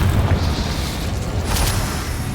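An Incendio fire spell cast in the game Hogwarts Legacy, a short loud burst with a deep whooshing boom and brief flare, heard alone with no talking.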